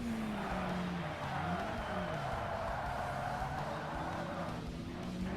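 A race car engine in Forza Motorsport runs at full throttle, its strained, steady drone rising and falling in pitch across gear shifts, loud and continuous, with a hint of tire squeal.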